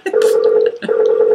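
A phone call's ringing tone plays as two long, steady electronic tones separated by a short gap, loud and close, with no talk over it.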